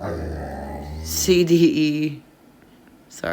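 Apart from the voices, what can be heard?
dog growling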